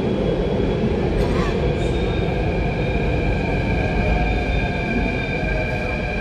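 Steady low rumble of a Delhi Metro train in motion, a constant droning roar with faint high whine, heard from inside the carriage.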